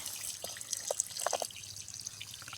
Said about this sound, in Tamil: அதுக்கு தான் இப்போ தண்ணி பாய்ச்சிக்கிட்டு இருக்கிறேன்